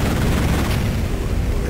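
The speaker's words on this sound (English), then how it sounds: "it's been a while since we've had some big explosions" Dense, continuous booming explosions mixed with rapid gunfire in the PC shooter Duke!ZONE II, loud and unbroken throughout with no talk.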